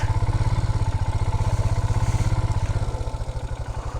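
A motorcycle engine on a road trip in Nagaland, India, heading toward Mon district, runs with a steady pulsing chug close up, slightly easing in level toward the end, with no talk.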